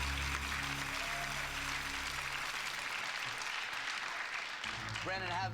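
Studio audience applauding on a television game show, a dense sustained wash of clapping from a few hundred people that carries through the whole stretch, with a voice briefly rising over it near the end.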